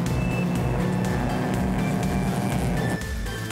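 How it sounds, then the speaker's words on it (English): Racing cars including a Porsche 928 and an MGB GT on a circuit at a historic motor racing event, with a continuous loud engine drone passing close by. "Cobus Brits now has the black and white Porsche 928 of Reineke in his sights."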